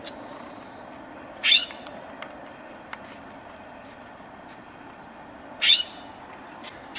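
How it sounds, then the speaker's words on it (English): A house sparrow gives two short, bright chirping calls several seconds apart, heard outdoors over a faint steady background hum. "House sparrow."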